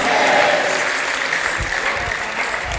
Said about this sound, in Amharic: ይሄ ነው ጭብጨባ